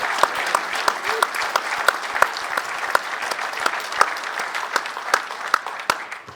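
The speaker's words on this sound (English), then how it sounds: "Let's give her one more round of applause." A banquet audience gives a round of applause at an awards dinner, a room full of hands clapping, with distinct sharp claps standing out from the steady wash throughout.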